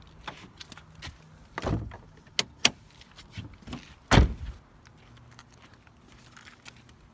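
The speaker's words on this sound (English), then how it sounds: "Let me pop open my gas tank and I can show you how it opens." A gas tank cap being popped open on a Subaru WRX fitted with a rear body kit, heard as a few close, sharp clicks and thumps of the fuel door and cap over quiet background, with no talking.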